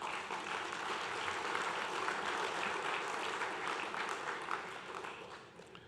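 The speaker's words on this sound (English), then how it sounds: "Let's give them a round of applause, ladies and gentlemen." Delegates at the closing of the Caribbean Development Bank's annual Board of Governors meeting give sustained applause, a thick, even roar of many hands that continues for several seconds before thinning slightly at the end.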